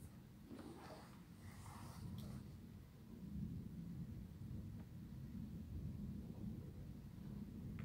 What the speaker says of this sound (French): J'aime bien comme il y a de la tempête